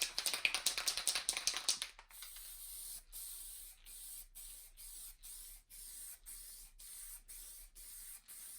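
Black spray paint misted over terrain baseplate tiles: a long continuous hiss up close, followed by a series of short, evenly spaced spray bursts with brief gaps between them.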